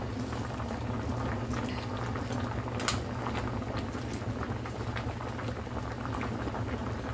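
Sinigang fish broth made with talakitok and santol bubbles hard and boils over in a pot on a kitchen stove, a steady close seething rumble with occasional pops.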